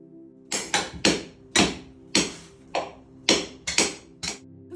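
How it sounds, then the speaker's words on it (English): Old cork is worked out from the seams between the deck planks aboard the ship RRS Discovery, giving about a dozen sharp, close tapping strikes in an uneven rhythm, each decaying quickly against a quiet background. "meticulously removing the existing material that's found between the beams of the deck"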